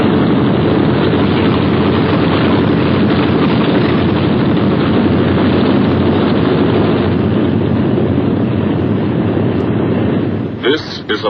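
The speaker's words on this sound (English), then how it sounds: "Only the roaring engine sound of the bombers pounding through the quiet English countryside." The engines of B-17 Flying Fortress bombers give a steady, droning roar over the English countryside in a dull, old wartime recording. A narrator's voice runs over the sustained engine noise.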